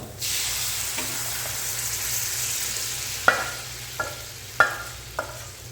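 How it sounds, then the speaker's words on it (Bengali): Boiled mung dal and spices are stirred with a metal spatula in a pan over low heat, a steady sizzle running throughout while several sharp scraping clinks of the spatula stand out toward the end. "সবগুলো উপকরণ দিয়ে আবারও আমি একটা খন্তি দিয়ে ভালো করে মিক্স করে দিচ্ছি"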